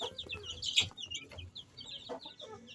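Young chickens clucking and peeping inside a chicken house on a poultry farm, soft overlapping calls close by in a quiet interior.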